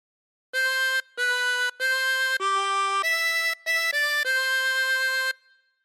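A chromatic harmonica plays a short melodic phrase from "God Defend New Zealand" of about nine clear, sustained notes, loud and close, with brief gaps between them and nothing else heard.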